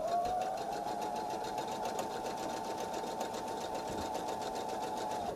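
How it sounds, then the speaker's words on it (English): A sewing machine runs in one steady, continuous burst, its motor whirring and needle chattering rapidly while stitching jelly roll fabric strips for a bag, starting and stopping cleanly. "I am going to sew."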